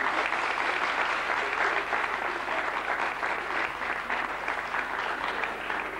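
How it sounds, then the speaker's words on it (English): Sustained applause from an audience at a 1988 Kerry Blue Terrier club show, dense, even clapping from many hands that holds steady for several seconds at moderate volume. "A really big round of applause"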